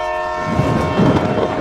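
A train horn sound effect blows in one loud, sustained blast with a rumbling undertone, heard on its own.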